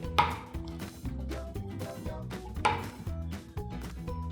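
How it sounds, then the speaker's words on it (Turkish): A knife finely chops ingredients for sea bass ceviche on a cutting board, giving a steady series of close, crisp taps with brief pauses between bursts. "Tüm malzemeleri böyle olabildiğince küçücük doğramanız gerekir"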